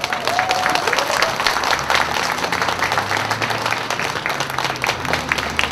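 An audience at a talk event breaks into sustained applause, dense and even clapping filling the room for several seconds.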